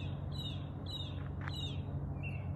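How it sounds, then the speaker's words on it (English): Faint bird chirps repeat every half second or so, high and thin, over a steady low outdoor rumble. "You hear the birds?"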